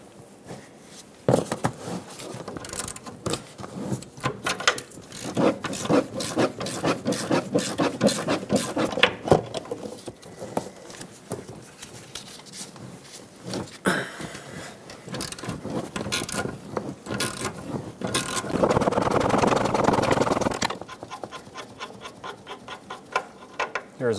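A wrench working the two 21mm shock absorber mounting nuts off the front of a 2007-2014 Chevrolet Silverado 2500 HD, giving rapid ratcheting clicks and scraping metal bursts, close up and without talk.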